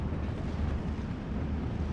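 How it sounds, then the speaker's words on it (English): Artillery in the Steel Division: Normandy 44 video game fires back at enemy mortar positions, heard as a steady, heavy rumble of distant blasts rolling together into one continuous low roar. "I'm going to start to fire back at their mortars again."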